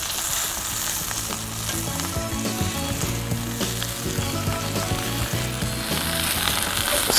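Steak sizzles and spits steadily in a hot frying pan over coals, a continuous crackling fry with occasional sharper pops, close up and without voices.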